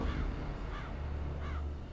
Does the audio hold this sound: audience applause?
no